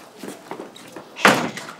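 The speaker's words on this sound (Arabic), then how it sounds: "شوف الواد بيصد الباب ازاي" A door is slammed shut at home with a single sharp, loud bang near the end, preceded by quieter movement and faint voices.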